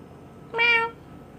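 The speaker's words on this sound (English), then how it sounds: "Her meow sounds funny." A single close, clear meow from a female cat, a short tonal cry rising and falling over a quiet indoor background, with no talking.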